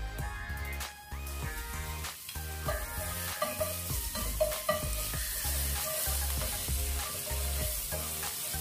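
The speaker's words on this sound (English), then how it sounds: "we need to saute the garlic, onion, and tomato." Garlic, onion and tomato sauté in oil for pork giniling, a steady frying hiss with scattered stirring knocks running throughout, partly covered by rhythmic background music.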